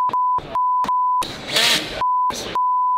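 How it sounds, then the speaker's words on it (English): Loud steady censor bleep tones repeatedly cut over speech, a run of short and long beeps alternating with bursts of talking. "You're gonna have to bleep out all the swearing."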